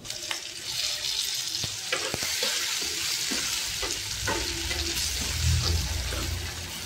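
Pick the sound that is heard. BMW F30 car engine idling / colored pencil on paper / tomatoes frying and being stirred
tomatoes frying and being stirred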